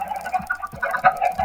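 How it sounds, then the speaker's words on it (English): Minecraft chickens clucking inside a farm, a few short close clucks in quick succession, loud and alone. "So I have some chickens that are inside here."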